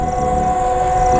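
Train moving on rails on the CAMRAIL network, a loud continuous rumble with a sustained tonal whine or horn-like tone running throughout.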